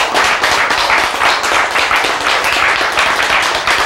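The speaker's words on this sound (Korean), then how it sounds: "와, 박수!" A live audience claps in a steady, dense burst that runs loud and continuous for several seconds, with no voices on top.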